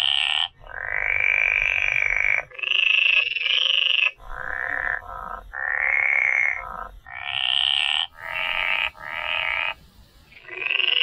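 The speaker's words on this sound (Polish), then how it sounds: "Jak ci się podobał ten żabi koncert?" Frogs croak at the edge of a pond in a run of loud, drawn-out, buzzing calls, coming in rhythmic bursts with short gaps between them and no talking.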